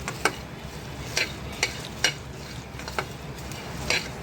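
Protein powder ingredients are dry-roasted in a pan, with a steady soft sizzle and rustle beneath repeated sharp scraping strokes of a spoon against the pan at an irregular pace, with no voices.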